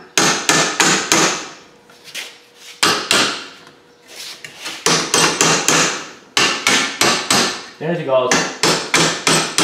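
A hammer striking a 17 millimeter pound-on socket in loud, sharp metallic blows, arriving in quick rhythmic runs separated by brief pauses, close by; a short spoken phrase occurs partway through.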